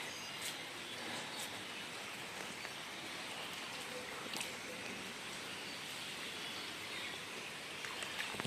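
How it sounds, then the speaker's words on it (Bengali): Soft, steady rain patters quietly outdoors, a light drizzle hissing evenly with occasional faint droplet ticks. "বৃষ্টিও পড়ছে দেখো ঝিরিঝিরি বৃষ্টি"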